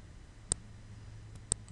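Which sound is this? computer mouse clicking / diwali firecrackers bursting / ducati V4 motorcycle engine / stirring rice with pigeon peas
computer mouse clicking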